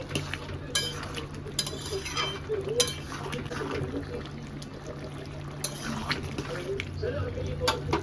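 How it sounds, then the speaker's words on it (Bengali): A chickpea curry is stirred after roasted cumin powder goes in, with soft scraping and wet stirring strokes at irregular intervals over a faint simmering sizzle, plus a low murmur in the background. "এটা ভেজে রাখা জিরে গুঁড়ো ভালো করে নাড়াচাড়া করে নেব"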